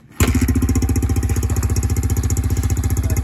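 A motorbike engine starts abruptly and runs close and loud, firing in a fast, even pulsing rhythm that holds steady to the end.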